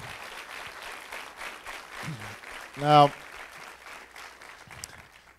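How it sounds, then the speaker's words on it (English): Town hall audience at George Washington University applauding, a fairly quiet spread of clapping that fades out under someone speaking briefly. "Please give them a big round of applause."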